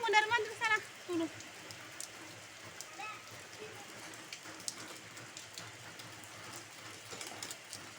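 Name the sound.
rain falling outdoors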